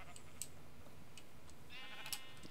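A sheep bleats in the video game Minecraft, two short faint bleats heard at a distance over a low background hum, with no talking.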